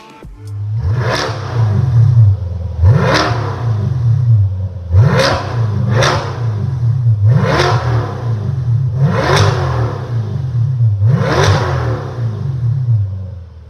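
Corvette Stingray C8 with a Z06 body kit and factory exhaust tips, in track mode with the exhaust fully open, revving repeatedly: about seven sharp, loud blips rising over a steady deep idle rumble, close by and with no talk.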